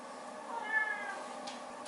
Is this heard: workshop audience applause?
no